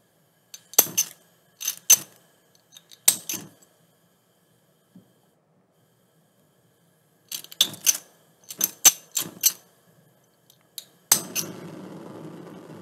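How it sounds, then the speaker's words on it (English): A flint lighter is struck repeatedly, giving clusters of sharp metallic clicks and rasps in short bursts separated by silence, ending with a soft hiss of gas after a final strike. "there's a little flint inside that rubs on the file to create the spark"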